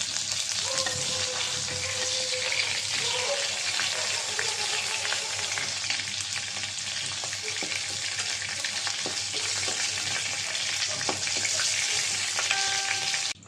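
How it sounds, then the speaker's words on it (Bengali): Chicken meat frying in oil in a kadai, a steady, dense sizzle throughout with occasional stirring and scraping noises, close and fairly loud with no talking. "মাংস সিদ্ধ হয়ে গেছে আমি উল্টিয়ে দিলাম গোস্তটা বাজা হয়েছে"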